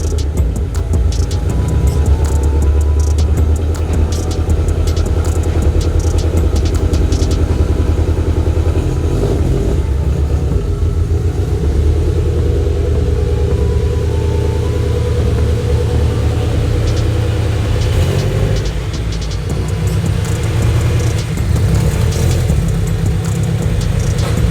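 The engine of a Toyota FRS car runs steadily up close, a constant low rumble with faint clattering that holds for the whole stretch without any voices.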